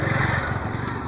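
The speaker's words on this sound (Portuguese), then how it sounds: "Ó, o motoca." A motorcycle rides across a bridge in Jaraguá do Sul, its small engine buzzing steadily and fairly loud at close range for about a second, with no talk over it.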